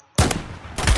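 Two sharp, loud Dragunov sniper rifle shots in Roblox Phantom Forces, the first following silence and the second about half a second later, each with a heavy blast and lingering tail.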